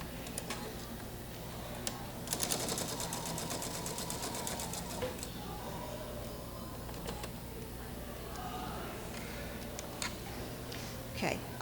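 A sewing machine runs over a quilt seam, its rapid needle chatter rising in a dense burst near the start, then continuing in softer stretches with small ticks and clicks over a steady low hum. Nearby handling and talk are faint.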